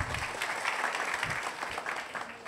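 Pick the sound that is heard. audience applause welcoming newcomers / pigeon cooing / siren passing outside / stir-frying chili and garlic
audience applause welcoming newcomers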